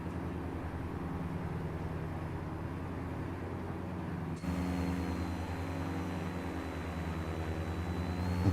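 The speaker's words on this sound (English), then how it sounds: "I hear a jet behind me. I know, it's a turbine engine." A jet turbine engine in Microsoft Flight Simulator drones steadily at moderate volume, a constant low hum that shifts partway through as a high whine joins and holds to the end, with no talk over it.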